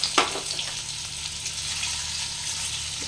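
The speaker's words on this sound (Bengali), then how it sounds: "আমি ভাজবো একটু হালকা হালকা করে" Paneer frying gently in lightly heated oil gives a steady, bright crackling hiss, with a small pop near the start, then even sizzling throughout with no talk.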